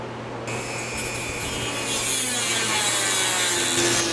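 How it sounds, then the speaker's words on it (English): Metal spacers for a custom Yamaha Radian motorcycle are cut and ground to fit the frame, producing a continuous harsh, raspy grinding that stays loud and close throughout. "So I need to cut them to fit the length and grind them to fit the shape of the frame."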